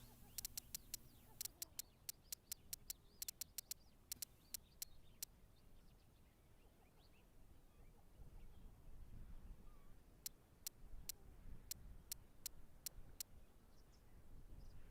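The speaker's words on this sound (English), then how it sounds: "Birds and clicks." Desktop audio from a western video game carries a steady bed of faint chirping birds and insects. Sharp, quiet clicks come in quick bursts at the start and again near the end.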